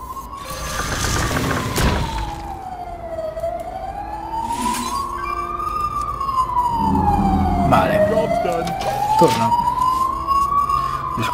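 An ambulance siren wails in slow rising and falling sweeps during a Hearthstone match, loud and continuous, with other game effects and a voice underneath.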